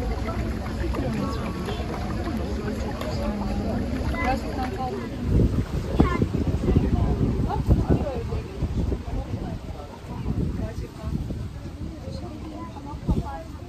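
A tour boat moving over open water, engine and hull wash churning steadily with gusty wind buffeting the microphone, while people talk and chatter throughout.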